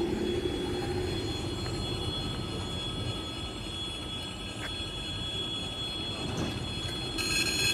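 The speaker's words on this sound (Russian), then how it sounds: "Говорят, это значит, что поезд, наверное, едет." A train runs along a Moscow railway line near Kholmogorskaya Street on an autumn day, a steady loud rumble of wheels on track with faint squealing, heard close and continuous throughout.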